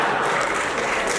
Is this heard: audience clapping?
yes